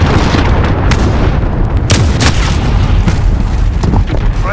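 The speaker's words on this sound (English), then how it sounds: "Enemy cruise missile incoming." A cruise missile strike in the Modern Warfare video game: a loud, continuous roaring barrage of booming explosions with sharp cracking blasts layered on top.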